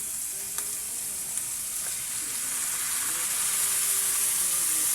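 Vinegar poured into a hot pan of cooking field rat sets off a loud, steady sizzle and frying hiss that swells slightly, with a few faint clinks of stirring close by.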